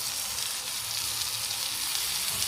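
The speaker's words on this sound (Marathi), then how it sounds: "आणि मस्त खरपूस भाजून घ्यायचे दोन्ही बाजूनी" Bombay duck fish coated in spiced flour fries in oil on a flat pan over medium heat, with a continuous soft sizzle close by and no talking.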